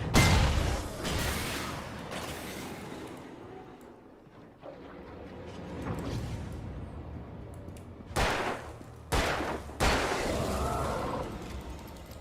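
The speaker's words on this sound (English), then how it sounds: "An explosion brought the other barrels to life." Barrels exploding in the video game Alan Wake, a chain of loud booming blasts with sharp bursts and rumbling tails, the biggest near the start and a cluster of hard hits later, separated by quieter stretches of game ambience.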